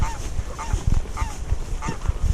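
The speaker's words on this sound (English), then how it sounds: "the geese are kicking off" Geese honking repeatedly and loudly nearby at a big carp fishing pit in the morning, the calls overlapping in irregular bursts with no talk.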